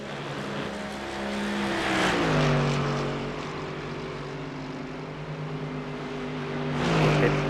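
A race car in iRacing during practice for the Spa 24 Hours special event revs hard, then the engine note drops sharply in a quick downshift, climbs and steps down again, loud and close.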